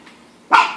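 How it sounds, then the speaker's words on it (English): A single sharp dog bark bursts out close and loud after a brief quiet hum, ending abruptly. "Sorry about the dog."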